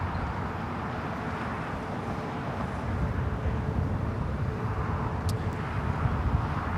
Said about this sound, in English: Iberia, coming in from Madrid, Spain, flight 351 on the A350-900.